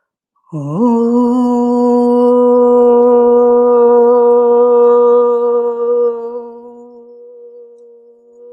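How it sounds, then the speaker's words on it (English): A group chanting a single sustained Om in unison during a yoga session, a steady harmonic drone that swells in and holds for about six seconds before gently fading, with no speech. "we'll chant Om, take a full breath in"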